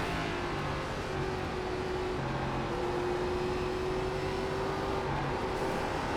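An ARCA Menards Series stock car in the iRacing game laps the Tsukuba circuit, its engine droning loudly and continuously with shifting pitch as it drives on.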